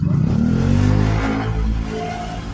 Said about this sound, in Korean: 오토바이가 지나가네요